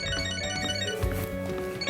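A phone rings in the Catherine: Full Body video game, a steady electronic ringtone with layered tones, sounding continuously and fairly loud over game music.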